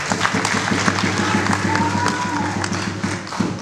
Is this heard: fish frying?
no